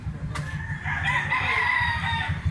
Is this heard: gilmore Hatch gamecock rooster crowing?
yes